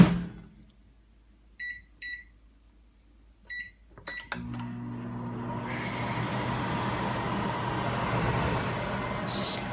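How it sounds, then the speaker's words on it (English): A microwave oven heating a tortilla: a few short electronic beeps, a door clunk, then a steady low hum with fan whir as the oven runs, fairly close. "And then we'll microwave it for a minute and 30 seconds about."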